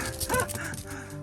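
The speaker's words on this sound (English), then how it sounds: "The barking is just excitement." A chihuahua barks excitedly during an outdoor game of fetch, giving a short burst of sharp, high-pitched yaps close by, over a brief second of sound.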